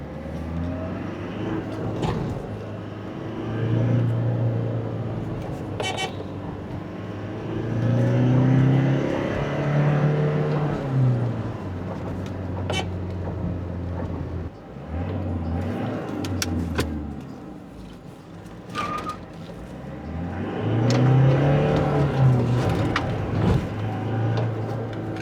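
Toyota Innova Crysta 2.4-litre diesel pulling away from low speed in second gear, its engine note rising in steady waves of acceleration with road and tyre noise, heard from inside the cabin with no talking.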